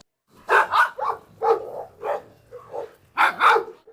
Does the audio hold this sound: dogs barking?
yes